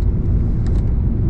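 A car driving fast along a race track, heard from inside as a steady, loud engine and road rumble with no breaks or talk.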